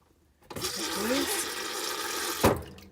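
A toilet bowl fills with water after a half press of the flush, a sudden rushing gush that rises quickly and holds steady, then ends with a short splash, heard close and alone.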